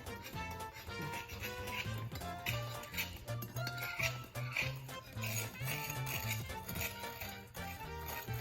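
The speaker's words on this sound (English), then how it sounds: "I'm just gonna mix these in real quick" Apple chunks tossed with cinnamon in a bowl give off a steady run of close clinks and soft scrapes of a utensil against the bowl, repeating rhythmically throughout with no talking.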